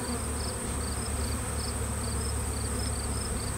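Honeybees buzz around a hive during honey harvest, kept from the honey boxes, forming a continuous faint drone of many insects with a few higher whines passing close.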